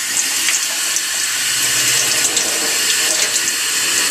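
A bathroom sink tap runs lukewarm water in a steady, close, continuous stream, with no talking over it.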